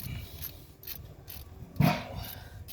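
A hand ratchet wrench slowly cranks a bolt on the idle air control valve of a 1997 second-generation Dodge Ram, giving soft, close clicking in short irregular bursts with one louder clack near the end.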